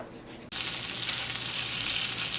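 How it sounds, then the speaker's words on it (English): Shrimp sautéing in butter over medium heat in a pan: a sudden hiss erupts as they hit the hot butter, then a loud, steady close sizzle continues alone. "we're going to cook these in butter over medium heat, and just until they're pink"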